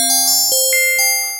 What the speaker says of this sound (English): Really nice sort of glassy little bell sound.